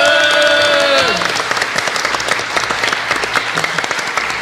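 An audience bursts into dense, sustained clapping at a live show, loud and close, with a tonal musical tail fading out at the start.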